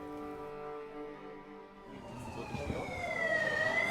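A wailing ambulance siren rises in from a distance over Jerusalem street noise, its pitch sweeping as it grows louder toward the end.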